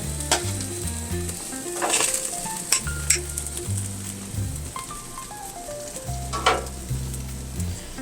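Meat searing on a Monument grill at about 400 degrees, a loud continuous sizzle with occasional pops and crackles, close up and without talk.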